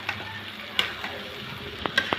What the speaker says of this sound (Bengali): ভালো করে মশলার সাথে মিশিয়ে নেব।